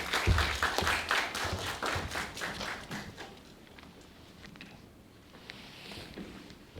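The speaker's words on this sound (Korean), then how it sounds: "박지훈 팀장님, 박수로 환영하도록 하겠습니다." Audience clapping at a 2022 Shinsegae I&C recruitment briefing, welcoming a team leader to the stage; a dense burst of applause that thins out and fades within a few seconds, leaving quiet room noise.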